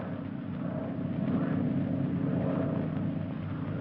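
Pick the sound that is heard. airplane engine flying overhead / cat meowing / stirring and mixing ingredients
airplane engine flying overhead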